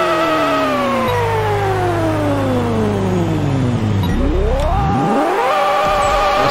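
Ford Mustang GT350R engine in Pixel Car Racer, a game car tuned to 3000 hp, loud and continuous: the revs climb and fall, then drop low and surge back up, with no talk over it.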